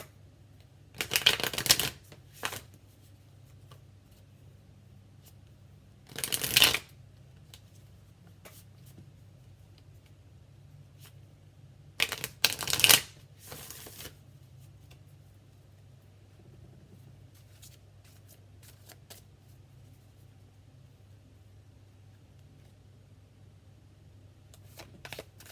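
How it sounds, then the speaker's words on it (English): Tarot cards of a Modern Love deck are shuffled in four short, crisp riffling bursts separated by long quiet gaps over a low steady hum. "we are using the Modern Love Tarot by Ethany"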